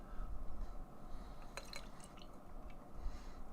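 Thick mango, banana and pineapple smoothie-style beer from Energy City Brewing pours into a tulip glass, giving a soft, steady liquid fill with faint gurgles over low background hiss.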